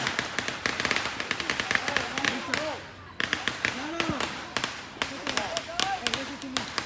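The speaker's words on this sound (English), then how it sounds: "we're shooting off fireworks over here" Rapid crackling bursts and sharp pops of fireworks and firecrackers going off outdoors on a city street at night, loud and near, with excited voices shouting over the continuous barrage.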